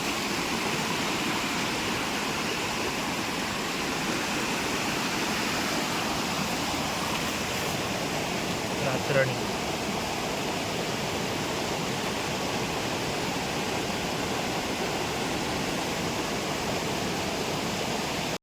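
Steady rain falls beside a tent while a swollen, muddy stream rushes past close by, forming a dense, unbroken wash of water noise with no voices.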